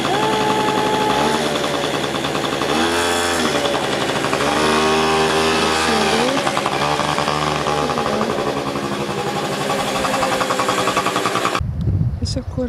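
A motorcycle ridden along roads on Corfu, its engine droning loud and close with rising and falling pitch as speed changes, wind noise throughout, then cutting off abruptly at the end.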